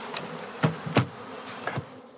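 Honeybees buzz faintly as a colony is moved from a large bee house into a small digital hive box in Dachau district, with a few sharp knocks and bumps of handling standing out.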